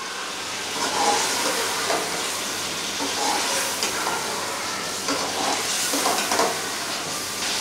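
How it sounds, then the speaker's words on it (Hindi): Meat karahi sizzling and frying steadily in oil after green chillies go in, a continuous close hiss with occasional stirring clinks, no voices. "अब हम इसमें 6 से 7 हरी मिर्चें डालेंगे।"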